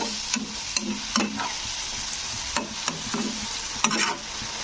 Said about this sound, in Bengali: পটলটা দিয়ে একটু কষে নিতে হবে এই মশলার মধ্যে